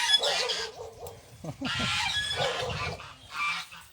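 Geese honk in loose bursts at moderate distance on a village farm in Thailand, nasal calls overlapping with some low grunting farmyard noise.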